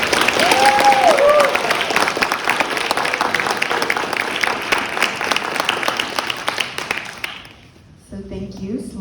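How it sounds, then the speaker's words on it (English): An audience at a college art symposium applauds the panelists with dense, loud, sustained clapping that thins out and stops near the end. "let's give our panelists a warm round of applause"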